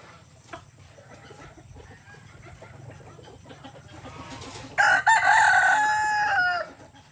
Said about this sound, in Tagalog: pinapakain namin konti sa hapon yung mga alaga, mga manok